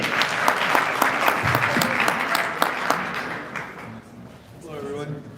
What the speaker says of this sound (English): let's have a big round of applause for Meridian.